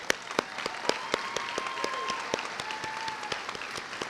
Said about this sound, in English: I want you to join me in one more round of applause to thank Dr. Stewart for her years, decades